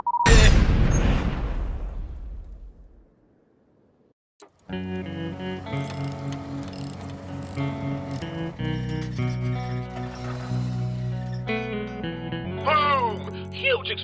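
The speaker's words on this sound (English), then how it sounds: "Boom! Huge explosion." A huge explosion in the Red vs Blue series bursts loud and close at the start, its roar decaying over about three seconds into silence, before a dense music score takes over for the rest.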